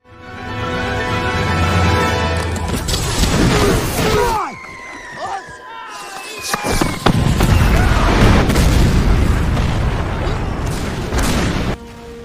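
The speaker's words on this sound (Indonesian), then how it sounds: "pasukannya Dementiev menembakkan misilnya ke markas Nazi di mana mereka berada" Heavy missile blasts slam into a Nazi headquarters in a Soviet war film, booming and crashing loudly with rumbling debris, a brief lull, then renewed chaotic explosions and gunfire-like cracks amid music.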